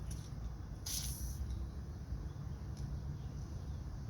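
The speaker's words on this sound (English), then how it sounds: "Let's try some PB blaster in there." An aerosol can of PB Blaster penetrating oil hisses in a bright burst onto rusted brake parts of a Toyota Venza, one strong spray near the start, followed by quieter fizzing and low background rumble.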